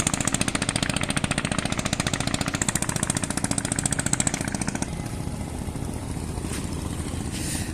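Engines of cargo trawler boats chug with a steady, rapid thumping rhythm close by, then drop to a softer, smoother running note partway through, with no talking.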